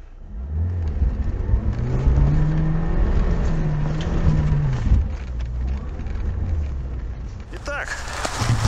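A car engine rumbles and strains close by, its pitch rising and falling as it works, ending with a brief clatter.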